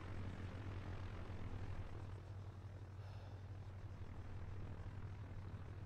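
An aircraft in Arma 3 drones steadily with a constant low engine roar and a broad wash of noise, fairly faint and unchanging throughout, with no voices.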